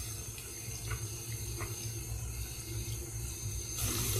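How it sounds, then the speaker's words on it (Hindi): Aloo lachha pakoras frying in hot oil over low-to-medium heat, giving a steady, continuous sizzle and crackle with no breaks, fairly close and even in level. "अब हम इनको फ्राई करेंगे।"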